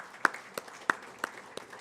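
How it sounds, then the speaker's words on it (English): Audience applause at an opening ceremony, a sparse, quiet scatter of distinct hand claps at an uneven pace. "may I kindly request all of you to give another round of applause to Madam Imka Mackey"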